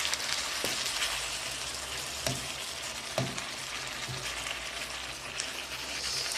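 Food frying in a pan gives a constant close sizzle, with a spoon clinking and scraping against the pan several times at irregular intervals as it is stirred.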